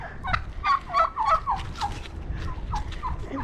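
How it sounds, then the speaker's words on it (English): Turkeys gobble in a burst of rapid, wavering calls, several overlapping at close range, then trail off into scattered quieter gobbles. "There's our turkeys."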